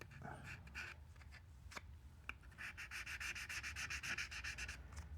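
Sandpaper rubs inside the nut slots of a Schecter Hellraiser Hybrid C7 guitar during a setup, a close scratchy scraping that turns into quick, steady back-and-forth strokes in the second half.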